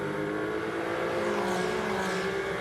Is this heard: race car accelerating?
yes